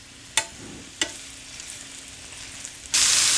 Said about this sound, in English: I've got a nice hot pan here, I've got the butter is melting, and slowly but surely here we've got the beef in here